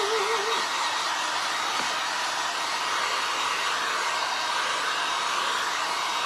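A hair dryer blows steadily and loudly to dry paint on glass art, a constant broadband whoosh from start to end with a brief faint tone at the very beginning.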